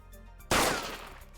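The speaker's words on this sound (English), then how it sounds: "the gunshot sound kind of scared me" A video game airstrike gunshot, one sharp, loud report that bursts out of a quiet background and then decays through a short echoing tail.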